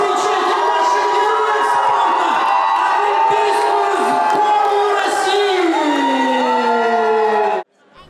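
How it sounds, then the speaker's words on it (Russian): A welcoming crowd at an airport greets an Olympic team with loud cheering, whoops and shouts, a dense sustained roar with some applause mixed in. It runs for several seconds at full volume, then cuts off abruptly. "Вокруг раздавались аплодисменты и радостные крики."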